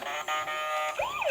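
A toy ambulance's electronic siren, a wailing, warbling tone that sweeps up and down, heard close and fairly quiet, with no voices over it.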